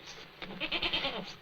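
A goat bleats in a quavering, wavering cry, close and fairly loud, rising after a brief soft lead-in and lasting about a second.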